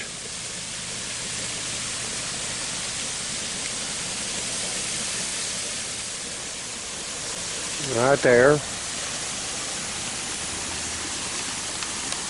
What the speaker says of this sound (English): I'm going to walk right over here and take a look at this little creek.